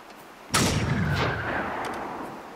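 A gunshot in the video game Generation Zero, fired while shooting at targets: one loud, sudden blast followed by a long, booming reverberant tail, heard alone without talk.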